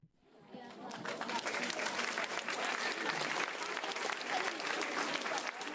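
A crowd of about a hundred people bursts into applause, swelling from silence within the first second into steady, thick clapping that holds evenly to the end.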